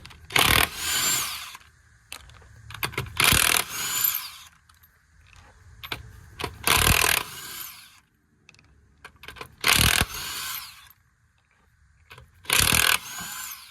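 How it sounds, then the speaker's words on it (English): An impact wrench loosens the lug nuts on an Infiniti M35x wheel in several loud, separate bursts of whirring and rattling, each lasting about a second, with quiet pauses between them. "I'm going to go ahead and take these lug nuts off."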